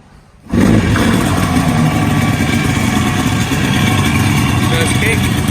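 A Yamaha RD350 two-stroke motorcycle catches after a kick and runs steadily, a loud, continuous close-up engine drone that holds throughout.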